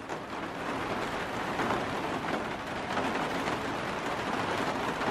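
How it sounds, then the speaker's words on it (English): Heavy rain falls steadily outside a greenhouse, a dense, continuous hiss of drops with no breaks or voices. "As you can hear, it's raining pretty good."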